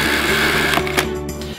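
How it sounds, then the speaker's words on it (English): The one-touch cord rewind on a Miele S6 Onyx canister vacuum whirs and rattles quickly and loudly as the cord retracts, then cuts off abruptly near the end. "Like the other Miele S6 vacuum cleaners, it features a one-touch cord rewind."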